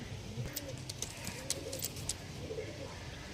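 Soft pigeon cooing repeats in short phrases, nearby but quiet, under sharp clicking and tapping noises.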